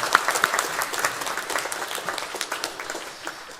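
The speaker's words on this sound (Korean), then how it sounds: "박수 올려드리겠습니다" A congregation at a Sunday morning church service in Mokpo applauds together, a steady wash of many hands clapping at moderate loudness for several seconds, with a few sharper individual claps standing out near the start.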